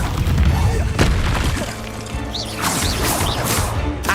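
Confringo spell blasts in Hogwarts Legacy, heavy booming impacts and crashing debris over a low game rumble, followed by a spell-casting swoosh with a rising chime.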